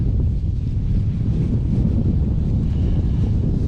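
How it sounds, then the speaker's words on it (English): Strong, gusting wind buffets the microphone in an open-air setting beside a Kawasaki Vulcan motorcycle, a loud continuous roar with no voices. "And it's windy as hell."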